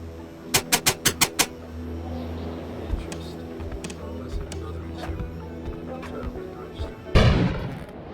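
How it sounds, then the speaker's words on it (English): Inside the video game Kona, an explosion bursts outside, arriving as a loud, broad blast near the end after a quick burst of sharp bangs over a steady low rumble of game ambience. "An explosion suddenly occurred outside."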